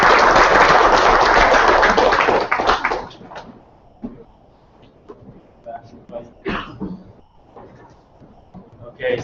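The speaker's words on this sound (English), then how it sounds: "So you can just give us a big round of applause for Tony." A meetup audience claps for a presenter, a dense burst of applause for about two seconds that fades into scattered throat clearing and quiet room noise.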